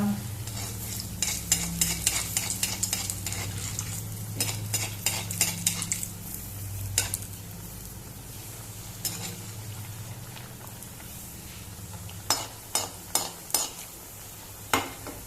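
Goan sukur vada frying in a little oil over a low flame, with soft bubbling under repeated sharp metal clinks and scrapes of a spoon against the pan, coming in bursts with quieter gaps between.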